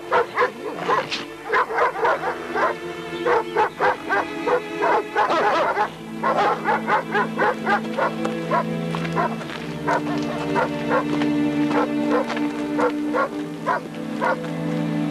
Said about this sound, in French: faites attention aux chiens